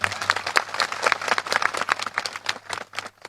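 A crowd at a political rally claps in a burst of dense, uneven applause that fades out after about three seconds, with a low hum beneath it.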